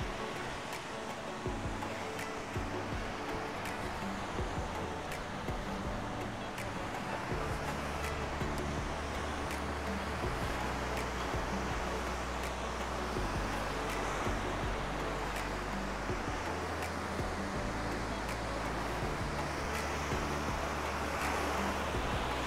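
Ocean surf breaking on the beach at Playa Akumal a day after Hurricane Beryl, a continuous roar of waves with low rumble and wind noise, steady and fairly loud with no voices.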